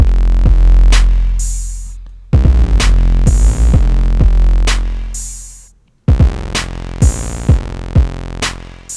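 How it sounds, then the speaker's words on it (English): A buzzy Omnisphere 2 synthesizer plays a repeating square-wave pattern of sharp, harmonically rich notes with punchy low 808 hits, loud and alone, cutting off and restarting twice. "it's a really affected square wave here"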